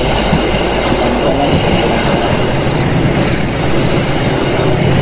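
A train in a video game rolls along steadily at a station, with broad rumbling rail noise, a faint wheel squeal and a soft clatter, loud and unbroken with no talk.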